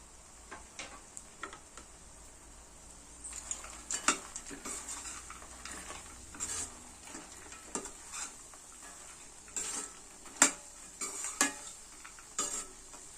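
Fried phool makhana stirred into simmering curry gravy in a pan, with irregular clinks and scrapes of a spoon against metal over a low bubbling hiss, close and busy.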